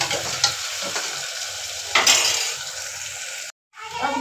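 Chopped tomatoes dropped into masala frying in a pan, a busy sizzle with stirring scrapes and a couple of sharp utensil clinks, cut by a brief dropout near the end.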